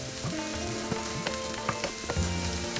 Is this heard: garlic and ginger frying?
yes